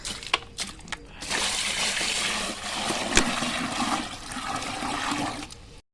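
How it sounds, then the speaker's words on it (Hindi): Water gushes from a cattle water tank into a large bucket, a steady, close, loud pouring rush running for several seconds after a few brief knocks and splashes at the start. "गाइस मैं अपने हौद में से अपनी गायों के लिए पानी निकालता हूँ, और उसको बड़ी बाल्टी में डालूंगा गाइस,"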